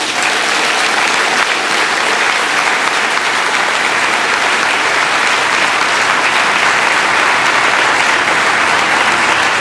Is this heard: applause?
yes